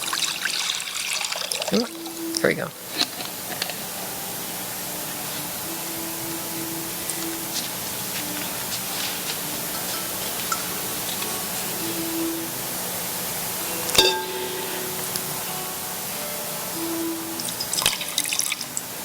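At a water communion service, water is poured out steadily, trickling and dripping for a long stretch with occasional splashes, while a voice speaks briefly near the start.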